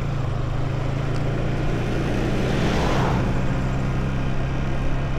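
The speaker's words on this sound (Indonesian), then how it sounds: "Kirain motor cuy, hanya mobil." A car engine hums steadily nearby and swells as it passes, with a broad whoosh near the middle, and no voices.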